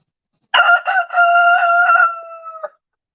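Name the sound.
rooster crowing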